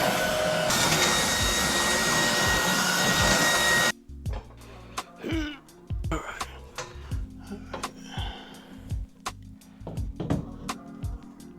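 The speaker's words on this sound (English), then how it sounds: "I'm gonna give it a quick vacuum anyways" A vacuum cleaner runs loud and steady for about four seconds behind a cleaning job, then cuts off, leaving clunks and handling noises with a voice speaking between them.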